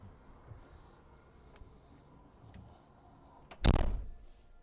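A single solid door slam lands sharply after a few seconds of quiet background rumble, brief and close.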